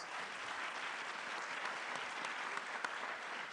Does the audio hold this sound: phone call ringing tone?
no